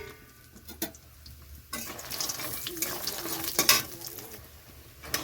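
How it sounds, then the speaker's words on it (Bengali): Homemade lentil dumplings (bori) fry in hot oil in a kadai, giving a soft, steady sizzle broken by a few sharp clinks and stirring scrapes, moderately close and fairly quiet. "তো এখানে আমি বড়িগুলো ভেজে নিচ্ছি।"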